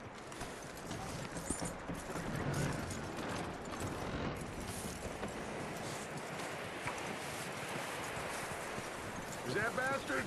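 Horse hooves clip-clopping at a steady walking pace in Red Dead Redemption 2, beneath busy game ambience, with wind and scattered clanks throughout.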